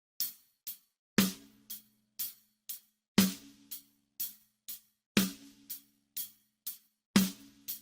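Slow, even hi-hat eighth-note ticks at 60 beats per minute with a snare crack landing on every other beat, a simple backbeat played alone and close.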